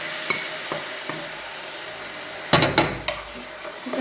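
Chicken pieces go into a pan of homemade chicken curry, where a low oily sizzle suddenly swells into a louder burst of frying. A few close scrapes and knocks follow as the meat settles.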